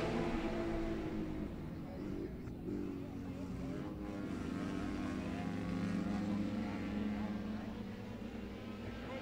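Race cars circling the Cornwall Motor Speedway oval in Canada during qualifying, a steady loud engine roar and drone sustained throughout with no clear pauses, and a commentator talking over it.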